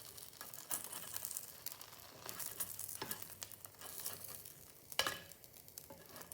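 Quiet sizzling of food frying in a hot pan, with occasional sharper crackles and scraping stirs, no talking.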